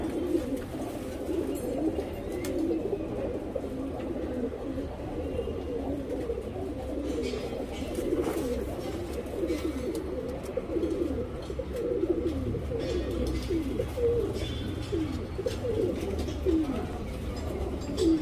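Young tournament pigeons coo together in soft, overlapping low calls that continue for the whole stretch, nearby and at moderate level, with slight rustling and no talk.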